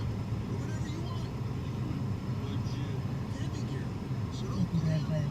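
A car driving through Tullahoma with a steady low road and engine rumble throughout, heard from inside the vehicle under quiet background noise.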